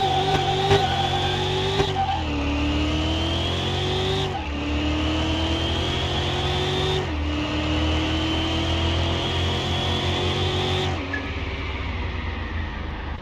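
Race car engine in Car Mechanic Simulator 2021, heard during a drag race against a fastback Mustang. The engine revs loudly and climbs through several gear changes, each shift marked by a sharp drop in pitch, with some tire squeal. Nobody speaks.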